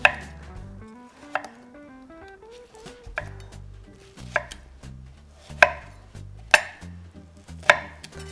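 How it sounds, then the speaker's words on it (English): A knife slices through lemon rind on a cutting board in sharp, distinct knocks, about seven or eight cuts spaced irregularly over quiet background music, close and clear, with no talk. "we're just gonna slice little pieces of the rind and the skin, basically the meat of the lemon."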